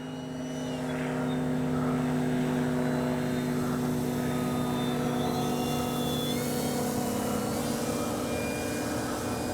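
A Flex RV8 radio-controlled model airplane flies past with a continuous buzzing electric motor and propeller whine that swells, holds steady and shifts slightly in pitch, loud and close, with no voices.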